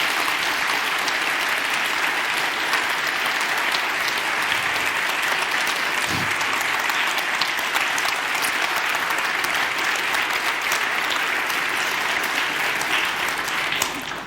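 Long, sustained applause from a conference audience after a talk on journalism, a dense, even roar of many hands clapping without pause, with faint voices buried in it.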